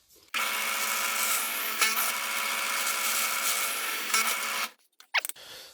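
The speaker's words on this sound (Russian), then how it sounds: "я буду прокладывать вот такую деревяшку вместе с заготовкой и проводить сверление" A drill bores into a wooden workpiece backed by a scrap piece of wood, giving a loud, steady whining buzz for about four seconds, followed by a brief clatter as it stops.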